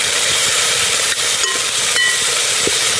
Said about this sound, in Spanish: Ahora voy a agregar la zanahoria. Que vaya friendo con la cebolla.